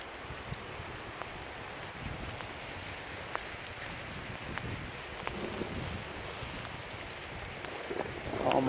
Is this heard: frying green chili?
no